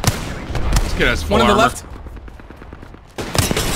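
Gunfire in the game Apex Legends crackles in rapid bursts, a fast volley of shots between and under players talking over voice chat.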